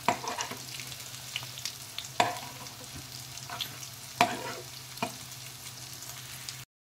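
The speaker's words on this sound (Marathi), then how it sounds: "कोणत्याही चमच्याने किंवा उलटणीने परतू शकता." Coriander vadi mixture being stir-fried in oil in a pan with a spoon, giving a steady soft sizzle broken by several sharp scraping clicks of the spoon against the pan, close by, with no talking.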